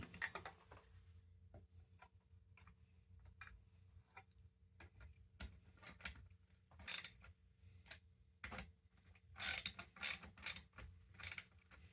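Ratchet tightening on a MAC 10-10 chainsaw while setting an ignition chip's magneto gap with a business card: scattered faint mechanical clicks, then several sharp, close ratcheting bursts near the end, with no talk.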